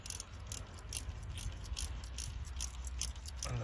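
A ratchet wrench loosens the rocker cover nuts on an EP3 Type R engine, giving a steady run of quick, close mechanical clicks over a low background hum, with no talking.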